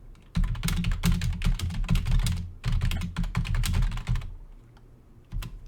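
Someone types on a computer keyboard in two quick flurries of close, crisp key clicks, with a pause between them and a couple of stray taps at the end.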